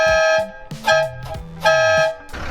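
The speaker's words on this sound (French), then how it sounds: "Rémi, il a aussi un super klaxon." A camper van's horn honks three times in quick succession, loud and close, each blast a bright tonal toot with brief pauses between.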